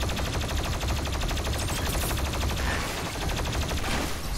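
Sustained rapid gunfire in Doom Eternal: a steady, fast-repeating stream of shots at even loudness, with no pauses throughout.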